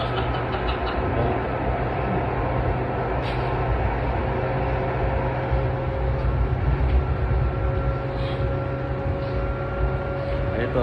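A passenger train runs steadily with a continuous low rumble and a faint tonal hum, heard from inside a carriage, with brief voices faintly in the background.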